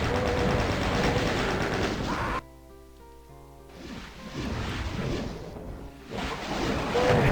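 Chain gun in a Doom map fires in dense, rapid bursts, loud and continuous, breaking off into a short pause with a low tone before firing resumes in further sustained volleys.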